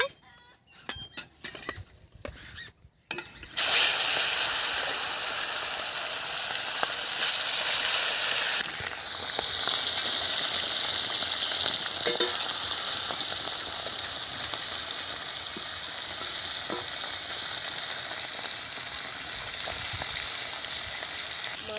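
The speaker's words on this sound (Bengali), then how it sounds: "মাছগুলোকে আমি এবারে তেলের মধ্যে তুলব।" Koi fish hit hot oil with a steady, loud sizzle and crackle, preceded by a few seconds of handling clatter, and the frying holds near and continuous throughout.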